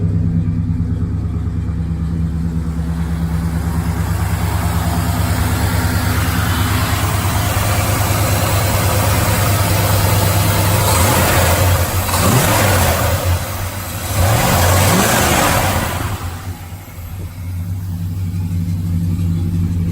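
A warmed-up 1971 Chrysler New Yorker engine idles with a steady low rumble, then revs up briefly in a couple of swells before settling back to idle, close and loud throughout.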